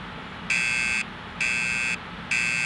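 A fire alarm buzzer inside a Roblox school game sounds in three even electronic blasts, each about half a second long, separated by short gaps, loud and shrill over a low background hiss.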